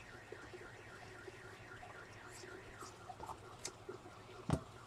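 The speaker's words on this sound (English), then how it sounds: "Somebody likes to play with their alarm by the sounds of it." A nearby alarm sounds faintly in a quiet room as a steady, rapidly warbling electronic tone that continues throughout, with a few soft clicks and taps close by.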